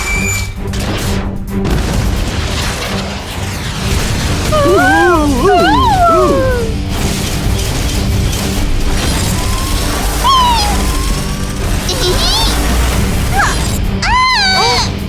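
A cartoon rocket punch weapon fires with an explosion effect: a loud, sustained blasting roar laced with sweeping, warbling synthetic tones throughout.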